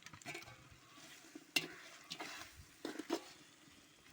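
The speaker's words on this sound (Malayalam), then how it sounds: "അപ്പോൾ നമ്മളെ പൊരിച്ച് വെച്ച ചിക്കൻ ഇതിലേക്ക് ഇടാൻ പോവുകയാണ്." Fried chicken goes into a pan of biryani masala and is stirred, producing soft sizzling with intermittent scraping and clattering strokes, quiet and close with no talking.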